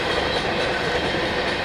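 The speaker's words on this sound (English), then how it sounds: "But it's a coal car and it's going through Spruce Grove right now." A CN freight train hauling coal cars rolls past near Spruce Grove, a steady loud rumble of wheels clicking over rail joints, close and continuous with no voices.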